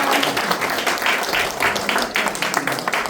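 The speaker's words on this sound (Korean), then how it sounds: "없으면 크게 박수 쳐주세요." Audience applause at the close of a lecture at a regular forum, a dense, steady wash of many hands clapping for about three seconds, moderately loud and fairly even, with no talk over it.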